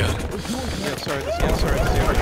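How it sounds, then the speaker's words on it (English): Machine gun fire in the video game Battlefield Hardline crackles in rapid bursts under a busy mix of game sounds and music, with a voice talking over it. "Machine gun."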